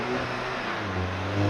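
A 2022 VW GTI launching from a burnout with wheel hop: a loud, close, steady engine roar with rumbling low-end judder that swells at the end.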